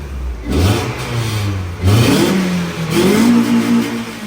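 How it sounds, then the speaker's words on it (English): A car engine revs at a street car meet in repeated loud, close bursts, each rising in pitch and then settling back, with no talk over it. "been requested to rev his car"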